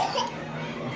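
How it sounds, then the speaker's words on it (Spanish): A single short cough from someone nearby, at home with a sore throat at the tail end of an illness, standing alone with no talk over it. "Estamos con ya lo de los últimos de la tos"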